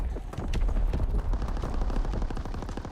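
Dense gunfire crackles in Call of Duty WW2 multiplayer, rapid overlapping shots in quick irregular bursts forming a continuous loud volley with a heavy low rumble underneath.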